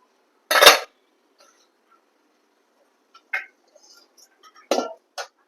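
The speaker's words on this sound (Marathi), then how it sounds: "आपण कुकर उघडून बघूया" A pressure cooker lid being opened after steaming a rava and poha breakfast, with a few separate metallic clinks of pot and dishes, one sharp clatter first and lighter taps later, close by in an otherwise quiet kitchen.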